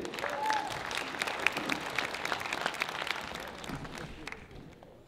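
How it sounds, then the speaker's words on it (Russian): Audience applause at a university award ceremony, a steady wash of many hands clapping for several seconds that thins out toward the end, with a voice briefly over it. "Друзья, ваши аплодисменты."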